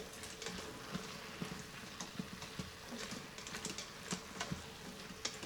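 Seasoned vegetables mixed with Creole seasoning in an Instant Pot on its saute setting: a steady sizzling hiss broken by irregular light scrapes and taps of the utensil, with no talking.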